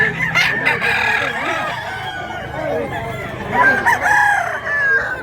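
Roosters crow and chickens cluck loudly and continuously at a busy poultry market, with overlapping calls close by and a few voices in the background.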